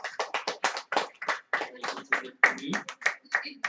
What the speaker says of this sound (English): We'll give you a round of applause for that.